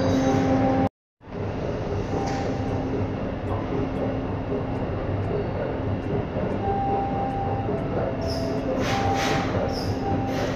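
Interior rumble of a moving train, a steady loud broadband roar continuing throughout, broken by a brief dropout near the start, with faint clicks and rattles later on.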